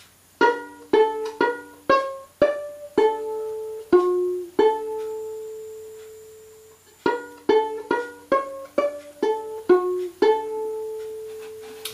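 Solo violin playing a line of the Irish tune Drowsy Maggie: quick runs of bowed notes, a long held note and a pause, then another run ending on a sustained note, close and unaccompanied.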